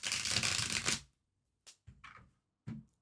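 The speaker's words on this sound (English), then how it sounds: "Do one more shuffle so I can have the shuffling sound." A deck of playing cards being shuffled up close, one long dense riffle followed by a few short bursts of bridging and tapping as the cards settle.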